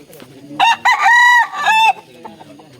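A fighting rooster crows loudly and close by, one full cock-a-doodle-doo with a couple of short clucking notes just before it, over faint background noise.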